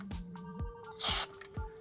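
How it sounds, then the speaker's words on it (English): A single short, loud hiss of cleaner sprayed into the speed control of a Sony direct drive turntable, close up, set among faint clicks and handling noises. "and then one more spray"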